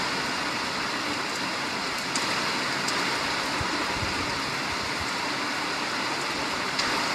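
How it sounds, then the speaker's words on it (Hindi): Heavy rain pours steadily at a Shiv temple, a dense, even hiss of falling water with a few faint knocks and a low rumble beneath, continuous throughout with no voices. "हेवी रेन जो है शिव मंदिर में हो रहा"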